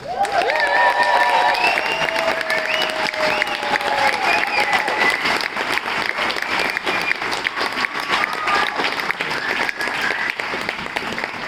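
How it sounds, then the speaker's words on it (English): Sustained applause from a large theatre audience fills the room, steady and dense, with a few cheers and whoops rising above it. "please give a round of applause to the artists, past, present and future, of this theatre"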